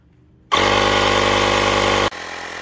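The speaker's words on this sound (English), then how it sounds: "that's the Ryobi inflator there" A Ryobi battery-powered inflator running on a trailer tire, a loud, close motorized buzz that starts abruptly, holds steady for about a second and a half, then stops.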